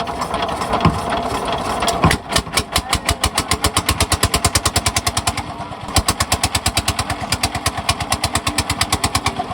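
The engine of a motor trawler boat pushes off on the river at Lalakhal, Sylhet, running close and loud with a steady, rapid chugging beat that grows more distinct after the first couple of seconds.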